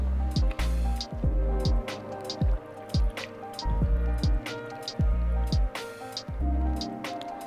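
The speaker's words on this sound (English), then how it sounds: "now I can pour liquid ethanol straight from the bottle" Liquid ethanol glugs from a bottle into a fireplace burner in repeated rhythmic pulses, loud and close, with gurgling bursts as air enters the bottle neck.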